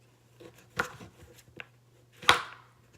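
A large knife chopping fruit on a cutting board: two sharp, close cuts about a second and a half apart, with faint handling noise between them.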